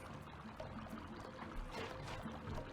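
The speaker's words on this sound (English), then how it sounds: "you want to get the water to not flow through that upper pipe over there" Water flowing through valves and pipes in the video game Sly 2, a steady rushing, trickling pour that runs continuously at moderate level with no talk over it.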